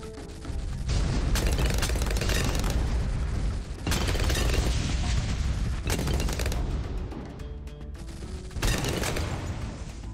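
Cluster bombs bursting in rapid clusters in a tower defense game, dense overlapping booms and pops in several loud waves, with no talk over them.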